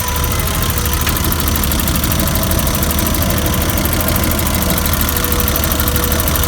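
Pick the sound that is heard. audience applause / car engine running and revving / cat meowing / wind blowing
car engine running and revving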